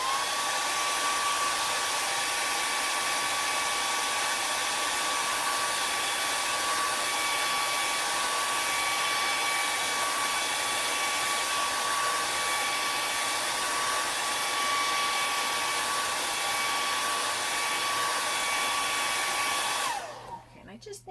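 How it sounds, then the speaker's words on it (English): A hair dryer blows steadily on wet acrylic paint for about twenty seconds, a loud, close, even whine and rush of air that cuts off abruptly at the end. "I want to hit this with the hair dryer"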